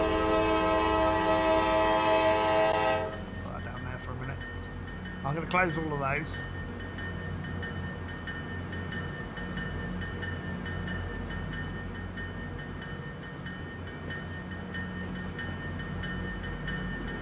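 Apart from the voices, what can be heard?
train running in video game Transport Fever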